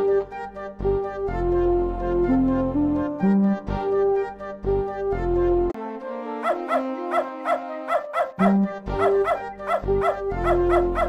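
Dog barks from the Beneath a Steel Sky video game, several short yips and barks set among game music and chiming tones, fairly close and moderately loud.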